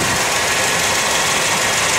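A 1995 Cadillac Fleetwood Brougham idles close by with a steady, even engine hum and no talking.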